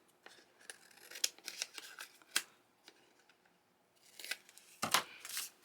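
Scissors snip excess paper away from mixed media craft tags, giving a scattered series of short, crisp cuts and rustles at close range, with a denser burst of snipping near the end.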